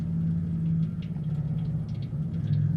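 A neighbour's big old motorbike rumbles with a low, steady engine drone, held fairly loud and continuous without any clear separate revs.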